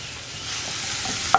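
Ginger and garlic sauté in hot oil for a cauliflower masala, a steady close sizzle with a faint stir near the end.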